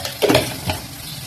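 Dry fish masala sizzles in a pan as it is stirred, with two quick scraping strokes over a steady frying hiss, close and brief.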